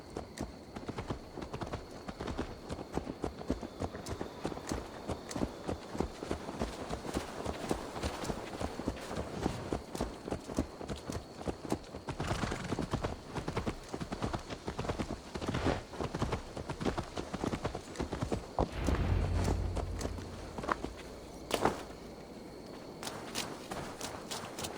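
Steady clip-clop of horse hooves on the ground in Assassin's Creed Valhalla, a regular walking rhythm that runs for the whole stretch, fairly close and even, with a short break near the end and no talk.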